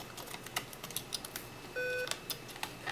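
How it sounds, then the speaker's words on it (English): A laptop emitting a single steady electronic beep on power-up, about a third of a second long, amid light clicks and keyboard taps nearby, fairly quiet overall. "Still beeping."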